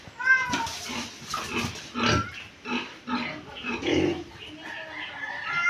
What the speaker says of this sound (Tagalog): Yung mga baboy na yan.